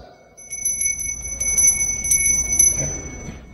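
A small hand bell rings in a church service, bright sustained tones with several strikes, moderately loud and alone.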